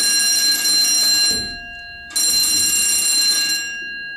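A loud electronic school bell rings in two long sustained bursts with a short gap between them, steady and piercing, with no voices over it.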